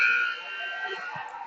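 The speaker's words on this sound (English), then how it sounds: "Final buzzer of the game" A hockey game's final buzzer blares as one long, harsh, steady tone at the end of a Prior Lake PW AA youth game against Irondale/Mounds View, loud and fading slightly across its length with faint arena noise beneath.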